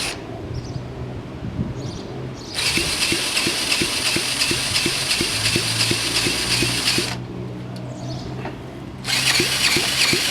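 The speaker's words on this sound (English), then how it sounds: "We'll see if we can even turn it over with a drill." Power drill spinning a 1970 Honda CT70 engine over by its flywheel, two loud whirring bursts separated by a pause, with rhythmic knocking of the turning engine underneath.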